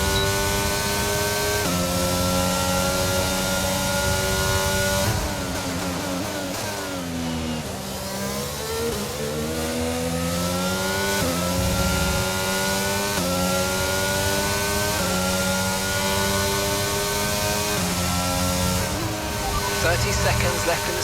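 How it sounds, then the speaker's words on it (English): F1 car engine from the F1 22 racing game during a lap at Miami in the rain, loud and continuous, with the engine note rising and falling through repeated gear shifts and throttle changes. "enjoy the engine sounds, enjoy the lap"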